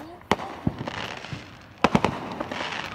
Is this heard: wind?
no